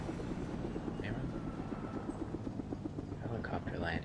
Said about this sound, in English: Helicopter landed somewhere.